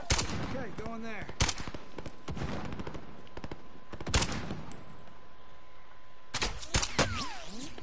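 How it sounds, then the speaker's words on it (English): Gunfire in a video game: scattered sharp shots and short bursts crack at intervals, some loud and close, others fainter and distant, with quieter game ambience between. "someone's taking shots at me"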